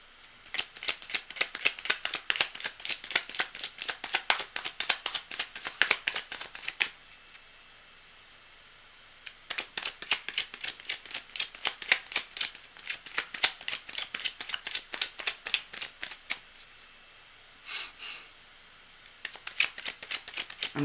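Tarot cards shuffled by hand during a reading, a close, crisp run of rapid riffling flutters in two long bursts with a short pause between and brief shuffles near the end.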